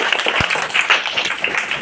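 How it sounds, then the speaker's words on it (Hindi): Hands clapping from an audience of schoolchildren at a meditation session, a dense, steady patter of many claps lasting under two seconds, with no talk over it. "ताली बजाइए।"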